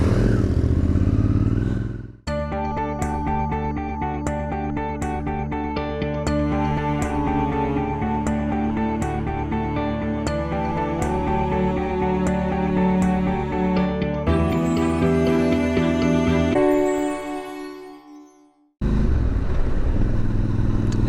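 Someone rides a Suzuki V-Strom 650 motorcycle, its engine humming steadily at cruising speed for a long stretch, with clattering and wind. It cuts out abruptly, then the engine drones again more faintly and trails off.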